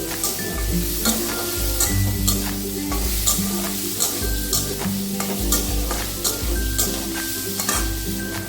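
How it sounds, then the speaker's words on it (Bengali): Soya chunks are stirred in a hot pan, with repeated scraping strokes of a spatula over a steady sizzle, close and fairly loud in an uneven rhythm. "সোয়াবিনটা দেওয়ার পরে নাড়াচাড়া করে নিবে"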